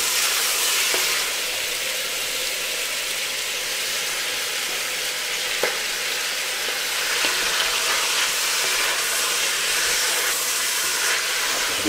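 Meat searing in a pan before onion and curry powder go in, a dense steady sizzle and hiss with a few small pops and stirring scrapes, close and continuous with no talking.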